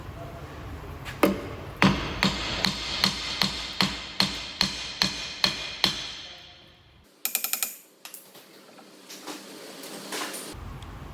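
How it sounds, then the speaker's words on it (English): Sharp metallic taps strike a VW Amarok rear brake drum to loosen it, about a dozen evenly spaced hits at close range, followed by a scraping, clattering shift of the drum and a brief burst of metal-on-metal contact. "You might need to just give it a bit of a tap while you're just working it to get it off"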